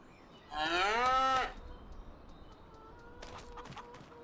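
Cows in a cow barn in Farming Simulator 25 let out one loud, drawn-out moo, followed by a quieter, more distant lowing call a couple of seconds later.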